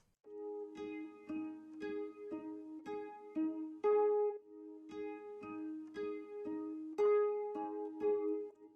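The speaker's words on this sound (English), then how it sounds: "so I got my nylon guitar and I recorded some melodies" A bouncy main melody on nylon-string guitar, quick plucked notes in a lively syncopated rhythm over about nine seconds, soft and warm, close and alone.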